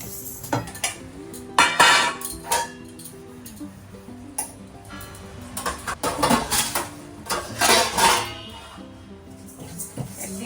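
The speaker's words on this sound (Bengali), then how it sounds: "এখানে ডালটা শুকনো খোলায় ভেজে নেব" Lentils dry-roasted in a dry pan, with repeated spoon scrapes and metallic clinks against the pan in an irregular stirring rhythm, close by, with a faint voice in the background.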